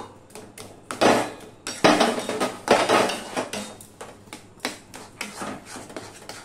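Chomchom sweet mixture being stirred in a pot, a series of loud metallic scrapes and knocks of the spoon against the pot in an uneven rhythm, close and alone.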